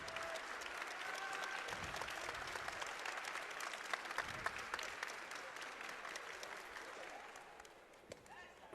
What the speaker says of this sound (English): Didn't even have to call for the claps on this one.